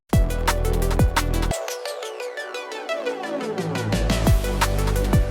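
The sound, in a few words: Tran Flange transition effect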